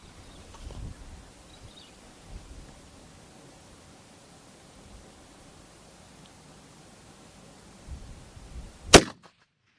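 A rifle in a KRG Bravo chassis fires a single sharp, loud shot near the end, after a long stretch of quiet outdoor background noise and faint rustling.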